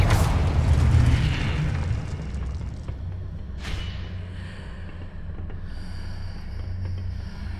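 Confringo fire-blast spell from Hogwarts Legacy: a heavy, loud boom opens, rolling on for about two seconds, then a sharper second burst follows, fading into low ambient rumble.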